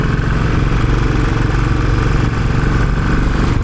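Royal Enfield Continental GT motorcycle engine running steadily, a loud, close, continuous low thrum with an even pulsing beat and no voices over it.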